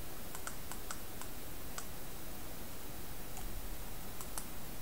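Sparse computer mouse clicks from operating Blender 3D software, a few small sharp ticks in quick pairs, then spaced apart, faint beneath a steady broadband hiss.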